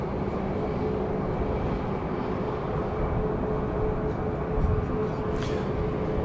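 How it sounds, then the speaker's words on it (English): A Boeing 737 MAX 8 airliner at Dallas Love Field gives off a broad, steady jet roar that stays loud and constant for several seconds, with a brief higher hiss near the end. "We've got a MAX 8 underneath us there."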